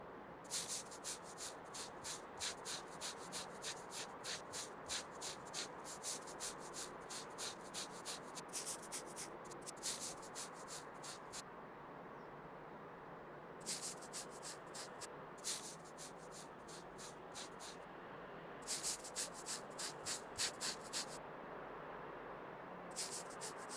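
Repeated back-and-forth sanding strokes on a car body in Car Dealer Simulator, soft hissing scrapes in regular bursts with brief pauses, heard alone at low volume.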